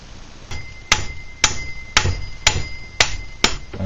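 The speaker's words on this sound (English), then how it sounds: "if I give this a whack with a hammer, I don't want to mess up the threads on the shaft here" A hammer strikes a nut on the flywheel shaft of a Craftsman 2.1 / Poulan 25 chainsaw with seven sharp metallic whacks at a steady rhythm, each leaving a brief ringing tone, close and loud with no talking.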